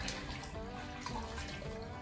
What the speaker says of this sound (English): Now it's time to clean this up. For that, I'm just using a rag and water.